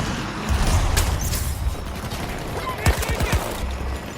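Rapid bursts of VCAR rifle fire in a first-person shooter video game, the short-barrel weapon fired from the hip, with crisp repeated shots over a dense battlefield din of explosions and distant gunfire.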